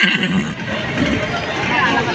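A horse whinnies amid a busy outdoor livestock setting where cattle are being sold, set against a steady murmur of crowd chatter and background noise lasting about two seconds.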